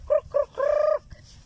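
A chicken nearby gives three short, clear calls, the last one drawn out, followed by a faint fainter cluck.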